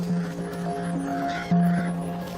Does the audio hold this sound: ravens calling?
yes